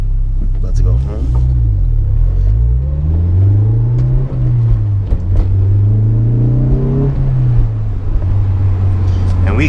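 A Honda S2000 convertible driving top-down in winter, its engine droning steadily with rising and falling pitch as it accelerates and settles, close and continuous, with a person talking over it.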